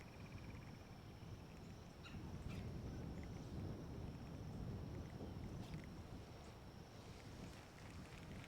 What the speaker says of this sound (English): Come on, wind. Lay down just a little bit.